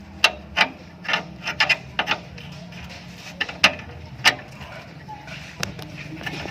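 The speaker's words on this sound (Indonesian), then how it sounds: "Kita kencangkan juga nih baut 10 nya ya" A wrench tightening a 10 mm bolt on a car's flexible brake hose gives sharp intermittent ratcheting clicks and scraping metal contacts, close and irregular, over a low background hum.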